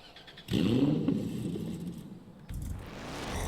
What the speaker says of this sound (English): Oh, that startup is beautiful.